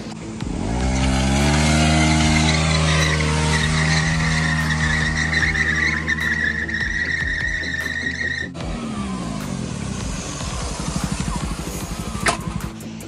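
A KTM or Pulsar motorcycle does stunts with revving engine and skidding tires, a loud close whine climbing in pitch, then a sudden cut to rough sputtering revs and a sharp screech, with no one speaking.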